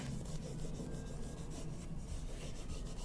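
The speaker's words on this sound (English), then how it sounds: "So let's just rub this down." A rub-on transfer being burnished down onto an MDF craft piece, a continuous dry scratchy rubbing that stays steady and close throughout, with no talk.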